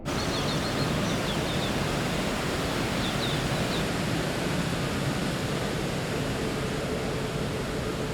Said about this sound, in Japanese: これが滝だなんて